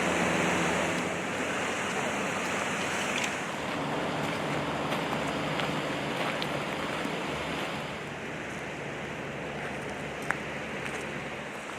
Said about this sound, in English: Beautiful creek, eh?